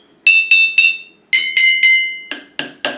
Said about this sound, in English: Whereas when you tap the bottle,